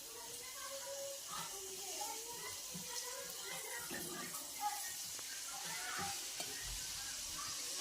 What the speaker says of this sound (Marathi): तर दुसरी बॅच सुद्धा आपण अशीच तळून घेणार आहोत